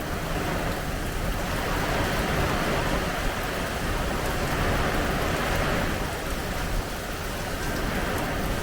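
Rain from Hurricane Debby keeps falling hard, a thick continuous wash of droplets close by that holds steady and loud throughout, with no one speaking.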